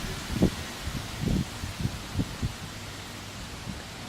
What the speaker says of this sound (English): I think it's the wind blowing the leaves and stuff up in the tree above us.